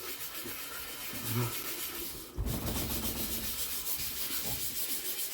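Steady abrasive scrubbing on an old cymbal removes green oxidation and pitting, a close, continuous rough rubbing that runs almost without pause, with one brief break midway.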